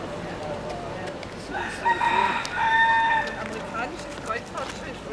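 Rooster crowing with clucking chickens outdoors on the Marquesas islands, a mid-distance crow rising over background chatter as people talk nearby.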